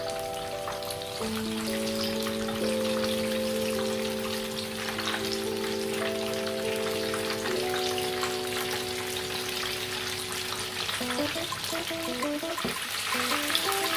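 Fish fries in hot oil in a pan over a high flame, a steady sizzle and crackle that runs unbroken throughout, with some low tonal background sound mixed in.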